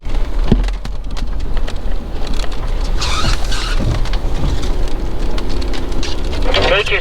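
Rain falling steadily at a dispersed campsite, a dense continuous hiss with patter on surfaces throughout, fairly loud and close, with some faint background movement.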